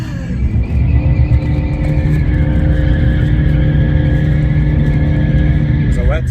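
A rally car slides on a wet spot while drifting, its engine droning loud and steady under long tire squeal, with a burst of skidding near the end and voices speaking over it.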